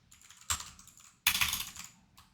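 Two quick bursts of typing on a computer keyboard, close and crisp, the second burst longer, with a short quiet pause between them.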